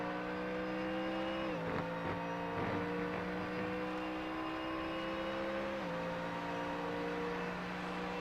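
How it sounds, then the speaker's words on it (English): A Mustang race car in a GT series race at Circuit de Barcelona-Catalunya, its engine holding a steady high drone with brief dips in pitch as it shifts or brakes, heard at a distance and fairly faint. "That Mustang makes some good noises."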